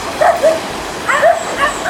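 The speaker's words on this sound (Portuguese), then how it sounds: "esses cachorros estão super bravos com a gente passando aqui" Angry dogs near a trail and river by Kawasan Falls bark at people walking past, with loud, close yapping barks in two short clusters.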